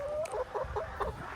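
Chickens in a coop give a quick series of close, soft clucks and murmurs over a short burst, with no talking.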